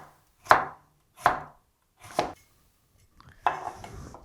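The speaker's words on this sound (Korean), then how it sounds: "채를 썰어주세요." A knife chops radish greens into strips on a cutting board: four separate, crisp strikes at a steady, unhurried pace, close and clear with quiet between them.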